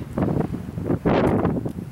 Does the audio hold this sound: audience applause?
no